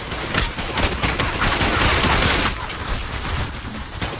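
Rapid bursts of gunfire in the VR shooter Population One, a dense, loud volley of shots in the foreground that thins out toward the end, with no talk over it.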